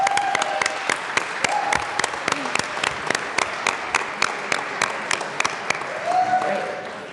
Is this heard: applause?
yes